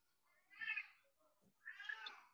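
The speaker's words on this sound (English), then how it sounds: "there's my cat screaming on cue" A cat meows twice, two drawn-out, strained cries about a second apart, fairly faint in a quiet room with a few soft sounds between them.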